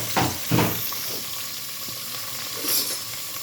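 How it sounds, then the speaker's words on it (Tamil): Oil sizzling and frying steadily for mutton biryani, a soft continuous crackle with a few louder bursts near the start and again late, heard alone without talk. "கோல்டன் கலரில் வர வரைக்கும் நல்லா ஃப்ரை பண்ணிக்க போகிறோம்."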